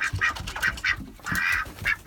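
Backyard ducks quack in a rapid run of nasal calls, several overlapping honks close by with short gaps, alongside farmyard fowl.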